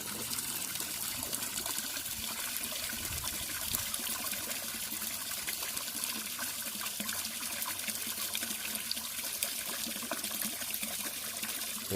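Pond water poured slowly from a bucket into a fish bucket, a continuous trickling and splashing stream held steady from start to finish, close by with no talk.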